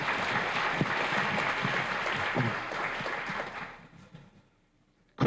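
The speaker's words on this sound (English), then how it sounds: "Judges, let's have a round of applause for Cliff Silva." Applause from a school audience at a fourth grade spelling bee, a steady crowd of clapping hands that holds for several seconds, then thins out and fades to near quiet before a sudden loud bump at the very end.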